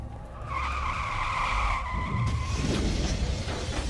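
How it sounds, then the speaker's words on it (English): A car in a dramatized scene accelerates to high speed with a loud, sustained tire skid and squeal over a roaring engine, close and continuous with no talk. "Accelerating car to a high speed."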